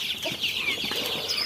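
Chickens clucking close by, a short run of scratchy, overlapping clucks and squawks with faint background noise.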